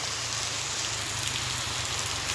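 Rain falls steadily at a market while shoppers shelter from it: a dense, even patter on surfaces with a low background hum, continuous and fairly close for the whole stretch, with no voices.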